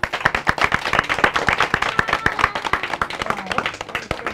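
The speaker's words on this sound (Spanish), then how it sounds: "yo siempre digo que el primer aplauso tiene que ser para Papá Dios." A crowd claps steadily at a community house-handover event, dense applause filling the whole stretch at close range with a few faint voices underneath.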